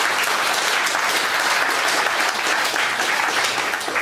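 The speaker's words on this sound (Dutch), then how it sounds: "Geef ze een warm applaus." An audience in a theatre hall gives warm, dense applause after a talk on North Korea's Kim dynasty, a continuous wash of many hands clapping at an even, full level throughout.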